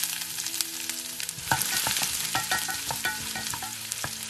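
Dried red chillies stirred and frying in hot oil after mustard seeds for Kerala-style kadala curry, a loud continuous sizzle broken by sharp spatula scrapes and pops in an irregular rhythm, close up with no talk.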